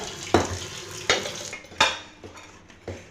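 Rice being cooked in a pot on a home stove, with a low sizzle broken by four or five distinct metallic clanks and scrapes of a utensil against the pot at irregular intervals.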